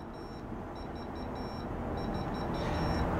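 An Instant Pot IP-DU08 electric pressure cooker showing a C6H error code beeps, a quiet series of short, evenly repeated high-pitched beeps over a steady room hum.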